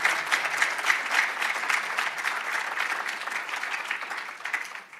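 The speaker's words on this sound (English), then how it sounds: "Let's give them a big, loud round of applause." An audience gives students a big round of applause, dense sustained clapping that stays loud and then thins out toward the end.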